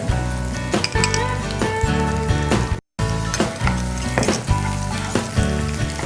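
Green chillies fry in hot oil alongside mutton and onions, a loud, continuous sizzle with scraping stirs and occasional clinks of a utensil against the pan, briefly cut by a moment of silence.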